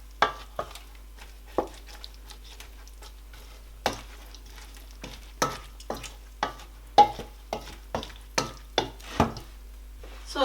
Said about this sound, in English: So we're going to mix. We'll mix gently so that our fish will not